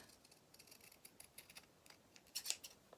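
Scissors trim fabric for a doll shoe, a run of quick, close, crisp snips that tightens into a few sharper cuts near the end, with no talking.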